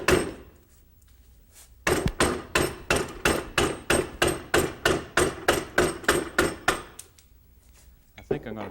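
A mallet pounds steadily on a carving tool, cutting into a wooden Adirondack loon clamped in a vise, about fifteen sharp, evenly spaced blows in a row, with quiet moments before and after.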